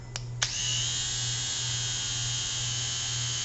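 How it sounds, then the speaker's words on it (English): A mini shaver's small electric motor whines at a high, strained pitch as it struggles, holding a steady buzzing drone after a couple of sharp clicks at the start. "you can hear the motor struggle"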